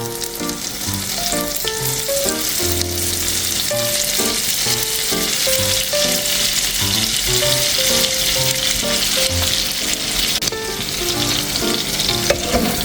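Imitation crab and scrambled eggs, with a squeeze of lemon juice, sizzle steadily in a pan, the continuous frying hiss sitting beneath loud background music.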